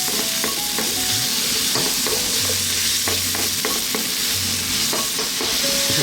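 Vegetables and potatoes stirred and fried in a pan over medium heat for a vegetable curry stew, a steady close sizzle broken by repeated scraping and stirring strokes.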